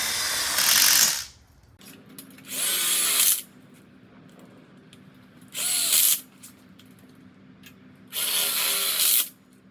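A power drill drives screws into VT brackets on an outdoor kitchen smoker module in four loud, close bursts of about a second each, separated by quiet pauses.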